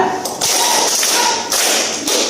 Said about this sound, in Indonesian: Tepuk tangan segitiga.